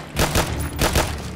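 Automatic AK rifle fire in a Minecraft Doom mod game, two loud bursts of rapid shots about half a second apart, set against steady in-game background noise.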